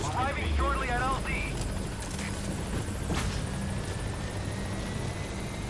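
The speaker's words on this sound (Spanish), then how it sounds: "Board the chopper when you're ready for a mission." Helicopter arriving in the video game Metal Gear Solid V, a steady rotor and engine drone beneath game music and sound effects, with a brief radio-style voice near the start.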